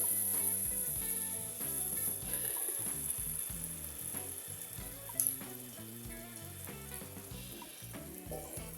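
Onion and tomato paste frying in hot oil for an egg curry, a steady close sizzle running the whole time with soft stirring clinks and a brief sharper clatter midway, no voices.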